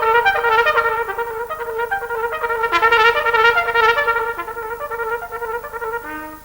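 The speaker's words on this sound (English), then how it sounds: "here's an example of a very, very difficult passage in the Hummel." A very difficult passage from Hummel's music plays continuously as a rapid run of bright, ornamented notes in a close, clear recording, with no talk over it.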